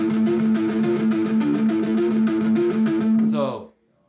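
Palm-muted, alternate-picked metalcore guitar riff, distorted and chugging in a steady fast rhythm with a repeated low note and a moving melody line, played alone and ending in a brief scrape before silence.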